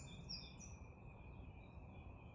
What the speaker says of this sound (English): As you can hear, the birds are singing again.